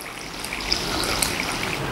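Water, about one and a half cups, pours steadily into a cooking pot holding pressure-cooked moong for ragda, making a soft, even trickle that lasts the whole moment without any voices.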